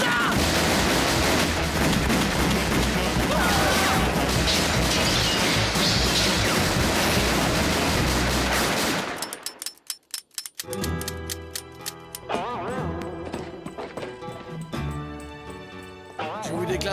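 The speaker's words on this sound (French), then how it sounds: "On tire dans le tas." Several guns shooting at once in a French Western cartoon, a loud chaotic barrage of shots and crashes that breaks off into sharp scattered bangs, with a voice speaking amid the noise.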